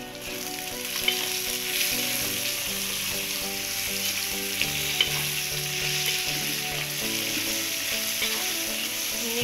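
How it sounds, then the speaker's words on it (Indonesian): Onion, red chili and tomato sizzle steadily as they are sautéed and stirred in a pan, a loud continuous frying hiss with occasional utensil scrapes and no talking. "Ini kita tumis sampai matang"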